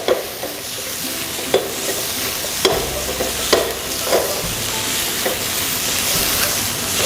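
Onions and shrimp stir-frying with curry powder in a pan, a steady sizzle punctuated by repeated sharp utensil knocks and scrapes as the food is tossed.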